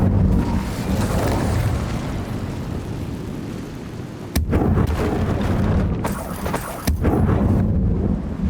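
A fiery Incendio spell blast in Hogwarts Legacy, heard as a loud, continuous roaring rumble broken by two sharp booming bursts partway through, with no talk.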